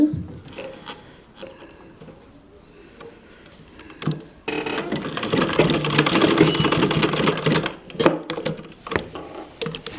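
Sewing machine stitching a designer blouse: a few soft mechanical clicks and taps, then a short burst of close, steady whirring with clattering mechanism noise mixed in.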